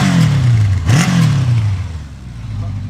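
A 1985 Kawasaki ZN700 LTD carbureted motorcycle engine revs up close, its pitch climbing and falling twice in quick succession before settling back to a steady idle.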